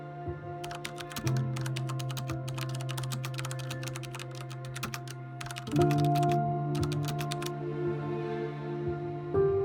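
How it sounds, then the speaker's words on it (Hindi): Rapid bursts of computer keyboard typing, close and fairly loud, arrive in several clusters with short pauses between them over a steady electronic hum, and no one speaks. "Let me type something."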